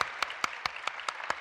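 Audience applause for Jorge at a talk in a fashion knowledge pavilion, a short burst of clapping with a few sharper claps standing out every fraction of a second.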